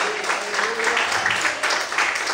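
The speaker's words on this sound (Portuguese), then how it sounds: "você pode aplaudir e exaltar a Deus bem forte" A church congregation claps loudly and steadily during a sermon, a dense wash of many hands with voices mixed in underneath.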